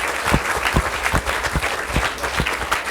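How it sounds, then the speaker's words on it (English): An audience applauds a law school dean at a practical politics and law lecture, with steady, dense clapping that carries on throughout and scattered louder individual claps rising out of the crowd. "Would you applaud your dean"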